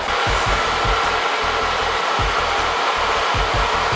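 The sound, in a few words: hair dryer with diffuser drying curls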